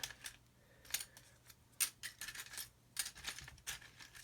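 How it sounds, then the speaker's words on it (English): Small plastic card offcuts, 5 and 10 thou thick, clatter and clink as fingers rummage through a pot of them, giving irregular light rattles and taps up close with no talking. "I'm going to get my pot out with all the little bits of offcuts and plastic card in it"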